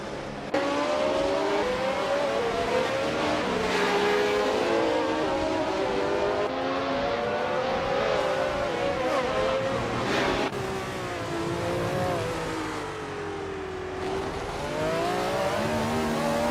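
A 1971 March 711 Ford race car in a racing video game, its engine loud and continuous, pitch climbing and dropping through gear changes as it laps, with other cars faintly around it.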